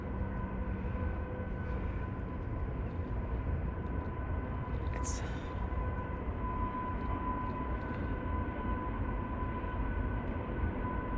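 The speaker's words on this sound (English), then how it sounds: "I think that's a train." A steady low rumble with a faint tonal hum continues without a break, like a train passing at a distance, with a brief high squeal midway.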